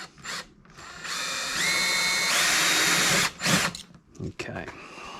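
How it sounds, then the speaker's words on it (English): A 4mm bit bores into plastic with a bright, high-pitched drill whine that runs steadily for a couple of seconds and rises in speed, then stops, followed by short mechanical clicks and handling noises. "drill's pretty easy because it's plastic"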